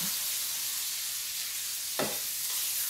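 Baby spinach stirred in a hot pan with olive oil, sun-dried tomatoes, shallots and red onion: a steady close sizzle with one brief louder scrape-and-hiss burst of the stir.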